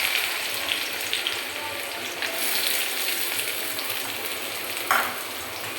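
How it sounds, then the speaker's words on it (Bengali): Chopped onions sizzle and fry in hot oil in a pan while biryani is being cooked, making a steady, loud, close crackle with no pause, plus a brief louder pop near the end. "তেল গরম হয়েছে, এখন দিয়ে দেব পেঁয়াজ।"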